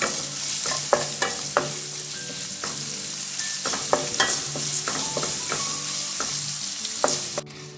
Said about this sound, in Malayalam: നമ്മുടെ വെളുത്തുള്ളിയൊക്കെ നന്നായിട്ട് വഴണ്ട് വന്നിട്ടുണ്ട്